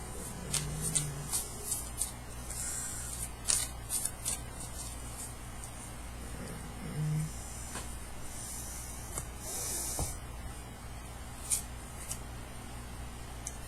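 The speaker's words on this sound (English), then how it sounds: "Let me shuffle one more time." A deck of tarot cards is shuffled by hand in a quiet room, with soft riffling and papery slides broken by several sharp snaps and taps.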